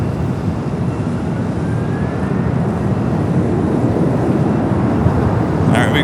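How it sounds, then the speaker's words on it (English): Air Premia Flight 101, arriving from Seoul, taxis on the north side at LAX. A continuous, fairly loud jet-engine rumble and hiss holds at a steady level throughout. "Arriving on the north side, Air Premia Flight 101 coming in from Seoul"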